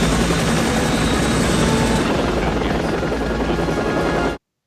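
Helicopter flying in the 1995 action film Under Siege 2, a steady loud rotor and engine roar that runs continuously and then cuts off abruptly.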